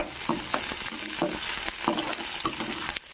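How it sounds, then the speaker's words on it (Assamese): Chopped onions and small pieces of boiled potato frying in a pan, with repeated spatula stirring strokes scraping through a steady close sizzle and no talking. "এয়া দেখিবলৈ পাইছে অকণমান ভাজি লৈছোঁ আৰু ইয়াতে মই আলুখিনি দি দিম"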